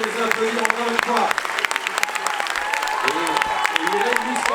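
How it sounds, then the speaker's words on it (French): Audience applause at a film premiere in a cinema, dense sustained clapping from a crowd with a voice speaking over it and a few cheers. "on peut les applaudir encore une fois"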